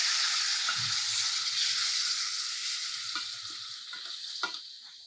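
Tamarind extract is poured into a hot oil tempering for tamarind pulihora prasadam, setting off a loud steady sizzle that slowly fades, with a few faint clinks.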